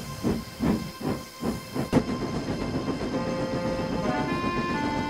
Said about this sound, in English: The guard's whistle came, and Percy started down the old line.